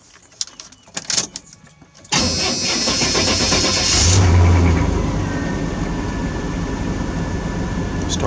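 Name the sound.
truck engine cold start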